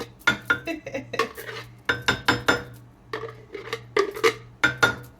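A small spoon scrapes and clinks against a container while scooping out homemade plant-based avocado ice cream, giving repeated short scrapes and taps in irregular bursts, fairly close and alone.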